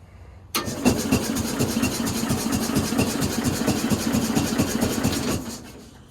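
1969 Bolens FMC Husky 1053 garden tractor engine cranking on a cold start, catching quickly into a loud rapid chugging run for several seconds before cutting back, close by and alone.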